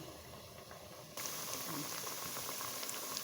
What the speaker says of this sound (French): Je fris ça dans l'huile végétale, l'huile d'arachide.